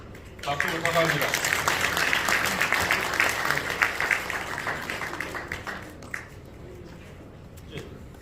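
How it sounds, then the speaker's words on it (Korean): Audience applause breaks out at a pastor's election gathering, a dense, sustained wash of clapping from a large crowd that starts abruptly, holds steady for several seconds, then gradually thins and fades. "박수 부탁합니다."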